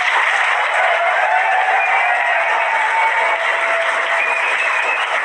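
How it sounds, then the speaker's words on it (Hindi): An audience applauds at an interview event, a dense, steady wash of clapping that holds at an even level for about five seconds without any break. "ताली बजाइए सर के लिए।"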